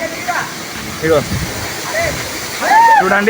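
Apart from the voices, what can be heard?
waterfall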